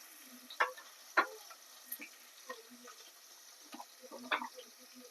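Onions sizzling in a pan with cumin and mustard seeds, with a faint steady fry and several sharp crackles and stirring clatters spread across it.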